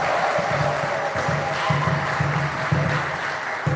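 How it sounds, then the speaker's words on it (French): A Mass congregation claps and acclaims Jesus on the feast of the Ascension, with steady applause mixed with scattered voices that continue evenly from start to finish. "Acclamons ce Jésus très fort."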